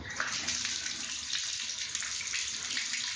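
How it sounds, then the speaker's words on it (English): Water runs steadily from a bathtub valve opened to the hot side, bleeding air from the supply lines after an electric water heater replacement, a continuous broadband rush with slight sputtering and no talk. "And what it's doing is bleeding all the air out of the line."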